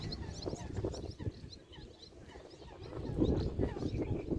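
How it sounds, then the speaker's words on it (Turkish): Birds call at Lake Beyşehir, with scattered chirps and short cries coming from a moderate distance over a low rumble of wind. "En azından kuşların sesini burada duyun diye."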